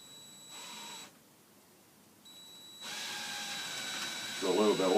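A drill bores a hole into a wooden walking stick to take a tenon or dowel, whining in steady bursts with a short pause between them. A voice speaks briefly near the end.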